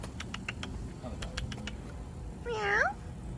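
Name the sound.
black cat meowing on a street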